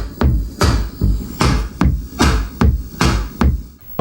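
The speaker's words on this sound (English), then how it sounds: "so I'm gonna throw on the cassette plug-in to try and give it some analog warmth." A 1981 Mattel Synsonics drum machine plays a steady loop through a cassette-style effect, with repeated punchy kicks and bright snare-like hits in an even rhythm, close and loud with no talk.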